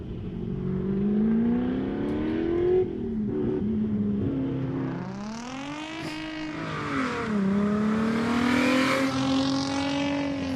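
Mazda RX-7 race car at a national hillclimb event, engine loud and close, revving hard through rising and falling pitch sweeps as it accelerates and shifts, with tire noise, running steadily for the whole stretch.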